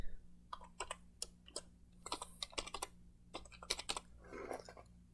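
Computer keyboard typing an email address and password into a login form: irregular bursts of close, crisp key clicks with short pauses between runs, over a faint steady hum, no voices.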